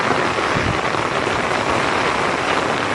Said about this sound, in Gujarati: તમને બતાવું વરસાદ કેવો પડે છે.